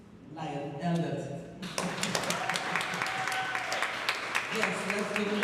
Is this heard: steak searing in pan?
no